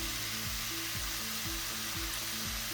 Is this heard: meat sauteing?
yes